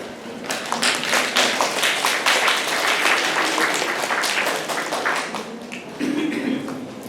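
Big round of audience applause at a public health conference panel session: thick, continuous clapping from a full room, steady and loud for several seconds with a faint voice underneath toward the end.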